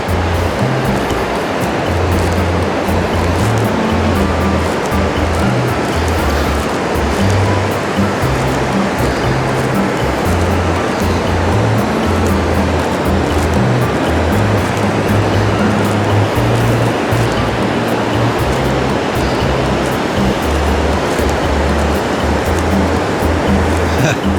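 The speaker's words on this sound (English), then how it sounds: "Waves are a little mushy this morning." Pacific Ocean surf rolling onto Chesterman Beach in Tofino, a steady, broad wash of soft, mushy breaking waves that roars continuously from a moderate distance with no clear gaps between sets.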